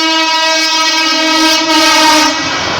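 An express train passes very close and loud, its horn sounding a sustained, harmonically rich blast over the rumble and clatter of the rail cars.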